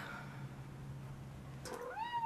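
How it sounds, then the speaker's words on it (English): A pet cat meows once indoors, a rising then falling cry late in the moment, close and clear over a low steady hum. "this is my one cat, Holly, and we have her brother here as well"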